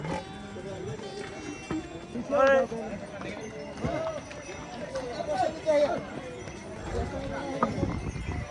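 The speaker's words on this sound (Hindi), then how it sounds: "ये जगह है घोड़ा पार्किंग, यहाँ से आगे घोड़े जाएंगे नहीं अब" Horses clip-clop at the horse parking area on the Kedarnath pilgrimage trek, scattered hoof knocks among a bustling crowd, with people talking over the hooves and an occasional snort or whinny.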